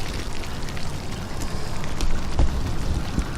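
Liquid from an RV black water tank rushing out through an unscrewed drain outlet, a steady broadband gush and splash that holds for several seconds with a few louder spurts near the end.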